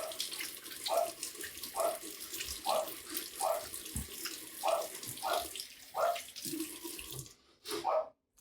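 Tap water runs steadily while a safety razor, a 2022 Henson AL13, is rinsed in a sink, with regular splashy knocks about once a second as it is swished under the stream.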